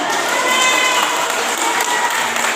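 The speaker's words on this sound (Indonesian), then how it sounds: "Sekali lagi boleh Bapak Ibu tepuk tangannya." Steady, dense applause from an audience at a graduation ceremony for the Sekoper Cinta women's school in Pasirmulya village, Bandung, West Java, a continuous wash of many hands clapping that holds at an even level throughout.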